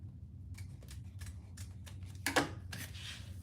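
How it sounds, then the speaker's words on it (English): Scissors snipping off excess leather during sewing, a series of short crisp cuts with one louder, closer snip near the end, no talking. "And then we'll cut off the excess."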